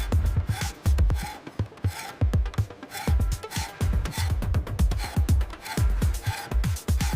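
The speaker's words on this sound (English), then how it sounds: "the segments must first be meticulously smoothed by hand, removing any imperfections from the surface." Bamboo segments smoothed by hand to remove surface imperfections before becoming bamboo plywood, loud close rasping strokes in a quick, regular rhythm with no talking.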